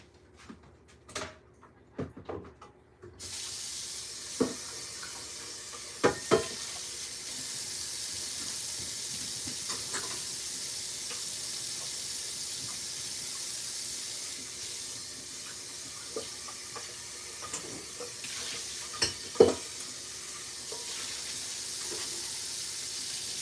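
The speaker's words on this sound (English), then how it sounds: "I'm going to wash this bowl out really, really quick" Tap water runs steadily into a kitchen sink while a mixing bowl is rinsed out, a continuous hiss after a few clinks and knocks of the bowl, with occasional louder clunks against the basin.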